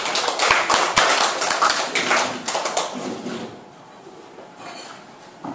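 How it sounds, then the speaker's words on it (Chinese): An audience at a spiritual lecture at a mountain lodge applauds: dense clapping for about three seconds, then it thins and fades into a quiet room. "我们掌声欢迎"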